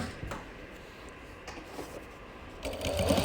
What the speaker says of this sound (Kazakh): Сосын инені ала отырып, замокты тіге бересіздер.